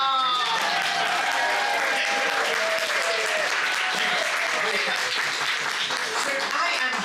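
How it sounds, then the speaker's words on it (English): Audience applause fills a hall at a guild annual general meeting, a steady, dense clapping that holds for several seconds with crowd murmur blended in. "Then I wait for the applause to die down."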